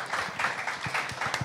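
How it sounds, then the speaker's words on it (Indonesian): A live event audience applauds three speakers with light, scattered clapping: a modest crowd producing uneven bursts of individual claps at moderate distance, with no talk over it. "kita berikan tepuk tangan dulu dong buat mereka bertiga"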